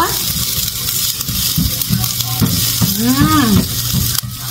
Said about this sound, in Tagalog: Kunting brown-brown natin yung bawang.